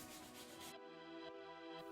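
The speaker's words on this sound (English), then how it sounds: "Now take a sanding block with 150 grit sandpaper and sand the edge." Steady rubbing of a 150-grit sanding block along the edge of a laminate countertop, a continuous close scraping hiss that shifts slightly in tone partway through.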